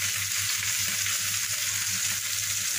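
Onion, garlic and green chili frying in a spoonful of mustard oil with a bay leaf, an even, dense sizzle that stays loud and unbroken, close to the pan.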